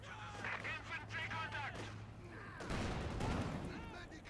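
Anti-tank guns open fire in a Company of Heroes 2 match, a burst of booming shots and crackling gunfire rolling together with battlefield explosions, loud and dense beneath ongoing game audio.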